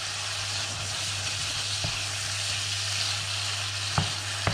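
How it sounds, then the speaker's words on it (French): Cuttlefish frying in a pan as the water cooks off, a dense continuous sizzle with a low steady hum beneath and a couple of sharp clinks from a utensil. "Je les laisse un peu, ça fait partir toute l'eau là, je fais évaporer l'eau."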